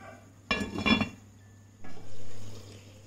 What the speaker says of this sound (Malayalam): ഇടയ്ക്ക് ഇതിൻ്റെ അടപ്പൊന്ന് മാറ്റിയിട്ട് നമുക്ക് കുറച്ച് കറിവേപ്പിലയിലേക്ക് ഇട്ട് കൊടുക്കാം